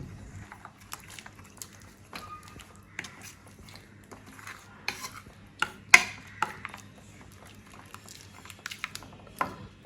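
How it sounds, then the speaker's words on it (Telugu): Curd mixed into masala in a pan for a dhaba-style paneer curry, with sparse, soft wet scrapes and squishy rubs, quiet and intermittent, with a couple of sharper knocks midway. "మసాలా విత్ పెరుగు మంచిగా మిక్స్ చేసుకోవాలి"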